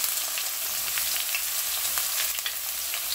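Two large chopped onions fry in a pan for a South Indian drumstick dish, giving a dense, even sizzling hiss that stays close and constant with no talking.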